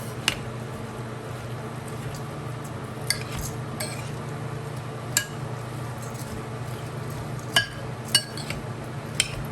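Coleslaw tossed in a bowl with utensils, with occasional faint clinks of metal against the bowl over a steady background hum in a home kitchen.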